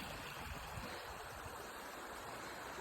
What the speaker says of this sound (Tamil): அருமையான தண்ணி மலையிலேருந்து விழுது